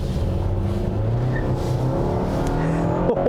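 A 2021 Nissan Rogue with a CVT accelerates hard. A steady engine drone rises through simulated gear shifts, heard from inside the cabin and loud throughout.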